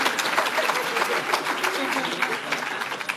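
An audience applauding at the inauguration of a wellness centre in America, a dense, continuous patter of clapping throughout, with a voice speaking over it.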